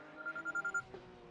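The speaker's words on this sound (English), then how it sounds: "Your phone's ringing." Phone alarm ringing: a short burst of bright, repeated electronic beeps in quick succession, fairly faint and alone, lasting under a second.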